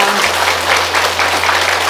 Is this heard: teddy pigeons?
no